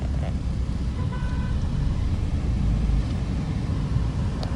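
Inside a Tavera vehicle on the road, the engine and road noise make a constant low drone with a brief faint toot partway through.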